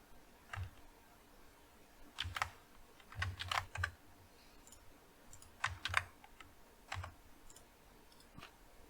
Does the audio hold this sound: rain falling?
no